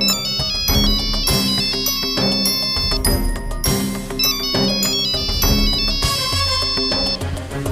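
A melodic phone ringtone plays in loud, repeating bursts, bright chiming tones looping without pause, in an Odia TV serial.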